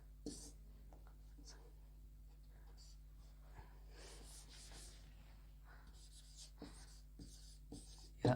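Pen writing an answer on paper, faint intermittent scratching strokes and short taps close up, with quiet breathing and soft murmured speech in a hushed room.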